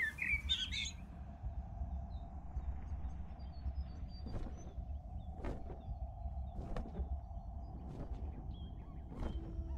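Short bird chirps from the video game Copycat, a few scattered tweets over a steady low ambient hum, fairly faint with no talking.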